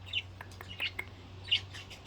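A pet bird gives three short, high chirps spaced across a couple of seconds, close and fairly soft over a low steady hum in a quiet room.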